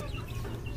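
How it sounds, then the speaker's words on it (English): Backyard chickens cluck in a brief, steady stretch of low, close flock noise with no other sounds. "Here are the chickens."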